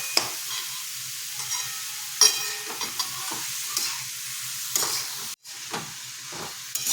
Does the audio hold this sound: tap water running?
no